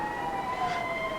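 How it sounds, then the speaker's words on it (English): Sirens from passing emergency vehicles in the 1979 film Microwave Massacre wail steadily and fairly loud, a continuous tone with no talk over it. "It's too bad they didn't wait until the sirens passed before they started acting out the scene."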